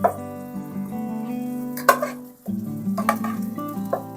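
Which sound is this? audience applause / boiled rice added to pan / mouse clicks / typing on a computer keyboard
boiled rice added to pan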